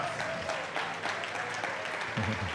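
A church congregation claps steadily in worship, a broad continuous patter of hands filling the room, with a voice briefly rising near the end.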